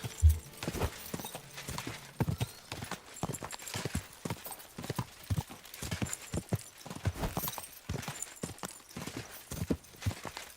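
Horse hooves clip-clop in a steady walking rhythm in Kingdom Come: Deliverance 2, close and clear, with no talking.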